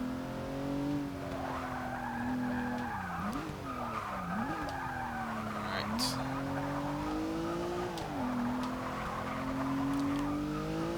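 A 2016 Rolls-Royce Dawn convertible with nearly 900 horsepower is driven hard in the racing game Forza 6, its engine droning and shifting pitch while the tires squeal and skid in long sweeps, with a voice talking over it.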